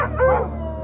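A dog howls eerily outside a house at night, a single short, drawn-out wail that wavers in pitch, moderately loud against a steady low background hum.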